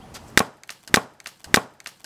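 A hard drive being destroyed takes three sharp, loud striking blows at an even pace, each a hard crack with faint rattling between them.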